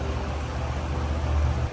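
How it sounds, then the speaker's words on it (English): A creek rushes steadily close by in a Sequoia forest, a dense, continuous wash of flowing water with a low rumble underneath and no voices. "listen to the river."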